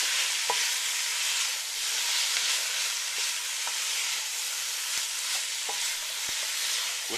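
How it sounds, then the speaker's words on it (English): Peppers get stirred in a cooking pot for a southwest chicken chili, over a steady hissing sizzle with occasional faint spoon knocks against the pot. "Give it a quick stir."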